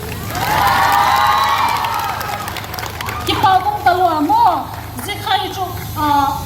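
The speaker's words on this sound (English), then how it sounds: "Student St. Paul School Captain Wading, a round of applause." A loud crowd at a school sit-in protest against sexual violence cheers and shouts at length, with excited children's voices rising and falling in bursts over a steady roar.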